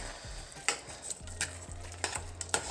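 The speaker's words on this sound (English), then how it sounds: "add the rice to the pot, stir to mix, and cook for 3 minutes" Rice is stirred in a pot of Grenadian chicken pelau: several scraping spoon strokes against the pot over a low sizzle, with soft clinks between strokes.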